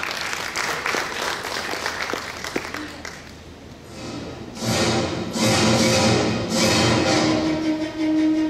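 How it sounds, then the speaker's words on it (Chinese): Audience applause at a formal ceremony as a former Chinese vice minister of transport is invited to the stage, swelling into loud sustained clapping after a quieter stretch of hall noise and murmur. "掌声欢迎辛部长"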